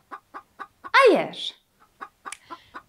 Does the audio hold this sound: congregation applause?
no